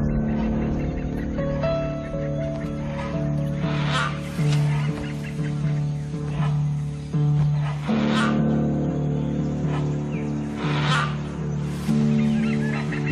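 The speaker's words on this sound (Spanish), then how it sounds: "Los calaos se avisan unos a otros del peligro con sus gritos." Hornbills in the Thai wild give loud, repeated honking alarm calls, harsh nasal bursts in irregular clusters overlapping one another across the stretch, fairly close and dominant.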